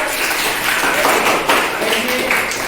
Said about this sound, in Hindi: सीमा जी के लिए तालियां।